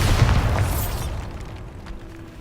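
A Bombarda blasting spell explodes in the Hogwarts Legacy video game: one loud, close boom with a crackling burst that decays over about a second into a faint rumbling tail.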